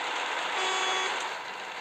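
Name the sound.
truck horn honking in video game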